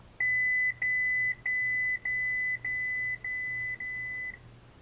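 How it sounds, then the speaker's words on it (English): A series of seven evenly spaced electronic beeps from a Proffie Neopixel lightsaber's volume menu, each a steady high tone lasting about half a second, clear and fairly loud with no talking. "And you hear that beep, you're in the volume menu."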